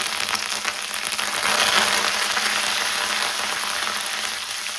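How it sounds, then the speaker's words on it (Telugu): A generous handful of curry leaves hits hot oil in a loud, dense, continuous sizzle that swells slightly and holds steady, close up and without talk. "ఇప్పుడు దీనిలో కొంచెం ఎక్కువ కరివేపాకు."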